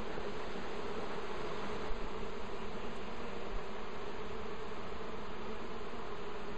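Honey bees buzz steadily around an open top bar hive being worked with smoke, a dense, continuous swarm hum close by with no talking.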